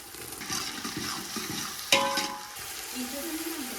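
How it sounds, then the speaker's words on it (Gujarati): Tomatoes go into a hot frying pan with a sharp hiss, and the sizzle continues over stirring scrapes. One louder splash-like burst rises midway, then the frying settles back to a steady crackle. "હવે આપણે ટમેટા એડ કરી દઈએ"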